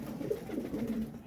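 A pigeon coos softly in a low, murmuring warble, close but quiet, from a rooftop pigeon loft.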